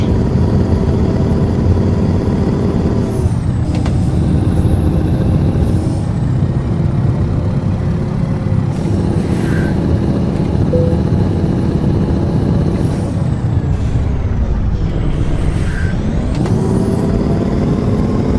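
A heavy truck engine in Euro Truck Simulator 2 revs hard and drones continuously, climbing in pitch through the gears with dips at each shift, alongside a brief air-brake hiss, with no talking.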